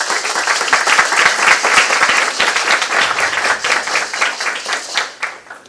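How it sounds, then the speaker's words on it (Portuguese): An audience claps steadily, a dense patter of many hands that slowly thins toward the end. "Queria também convidar e pedir uma salva de palmas para a Natália Farias."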